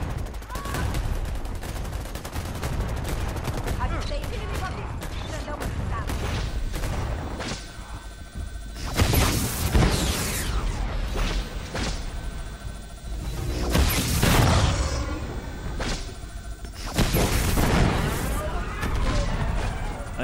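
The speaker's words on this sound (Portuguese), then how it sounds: "Tem alguém me dando muito tiro." Rapid bursts of gunfire and heavy booms in the video game Predator: Hunting Grounds crackle continuously amid explosions and whooshes, with a player talking over the chaotic firefight.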